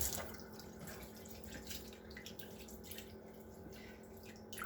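Water runs steadily from a tap while sea moss is washed by hand, a faint constant splashing stream with light drips and sloshing in the background.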